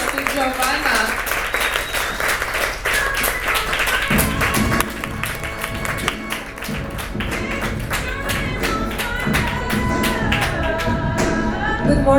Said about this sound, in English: So please give a big round of applause to Giovana.